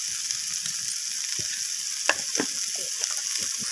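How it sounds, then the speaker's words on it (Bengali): Ginger paste being sautéed with spices in a pan for a home-style rohu fish kalia, a steady frying sizzle with scattered soft scrapes and stirring clicks close by, no voices. "তো আমি এটাকে আদা বাটাটাকেও মশলার সাথে কষিয়ে নিচ্ছি"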